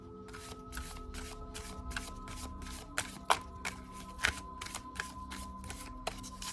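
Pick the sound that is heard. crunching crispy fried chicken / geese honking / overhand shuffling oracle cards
overhand shuffling oracle cards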